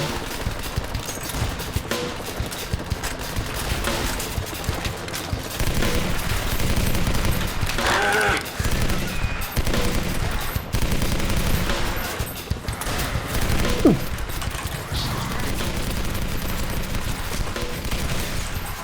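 Light machine gun fire in a first-person shooter video game, with sustained dense bursts of automatic gunfire that run loud and nearly continuous throughout.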